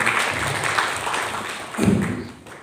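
Audience applause at a teachers' briefing session, a short burst of clapping from a seated group that swells near the end before fading out.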